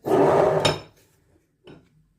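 Metal spoon scraping and clanking around a pot of tomato, carrot and sour cream sauce, a loud burst of stirring followed by a brief quieter clink.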